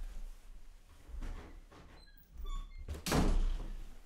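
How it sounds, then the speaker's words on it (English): An indoor door is shut with a solid thunk and slam near the end, preceded by soft handling noises and faint squeaks in a quiet room, recorded at low level with no talking. "Let me close this door. It's kind of loud."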